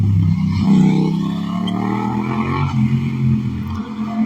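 Loud Brooklyn street traffic, a steady roar of passing cars and engines with rumbling low end and shifting tire and engine noise, continuous and close.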